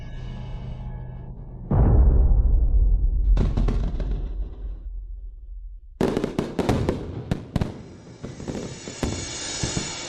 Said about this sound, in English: What beautiful fireworks.